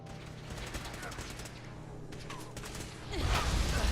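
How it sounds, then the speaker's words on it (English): Distant gunfire in Fallout 4, a muffled rattle of shots from off to one side under a steady game ambience, building louder near the end. "I hear him shooting over there"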